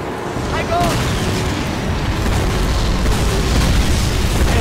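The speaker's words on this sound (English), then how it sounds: "Damn, they're just getting shelled and they're just walking." Artillery shelling in Call of Duty: United Offensive at Kursk, a loud, dense roar of explosions and rumbling blasts that continues without a break.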